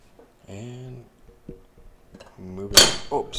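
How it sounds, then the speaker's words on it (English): A teapot snagged on a microphone cable gives a brief, sharp clatter and rattle near the end, following a stretch of quiet talking. "My teapot was hooked on the microphone cable."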